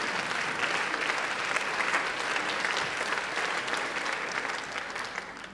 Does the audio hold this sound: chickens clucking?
no